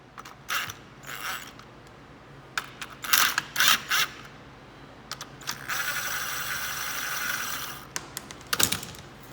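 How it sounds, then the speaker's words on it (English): A small impact wrench spins off 13 mm bolts on a 2000 John Deere 250 skid loader, giving several close, sharp rattling bursts and a longer sustained whir, with clanks between the runs. "Let's see if they'll come off with just the little impact here."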